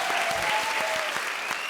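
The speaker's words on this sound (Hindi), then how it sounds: "जोरदार तालियां इनके लिए भाई।" Studio audience on the Comedy Circus comedy show breaks into a short, loud burst of clapping and cheering, a thick crowd wash with a voice briefly audible beneath it.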